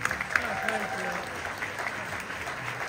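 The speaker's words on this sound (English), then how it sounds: "Round of applause for Kaylee." Crowd at a weekend event in Blackpool applauds a participant, steady clapping from an audience with voices talking over it.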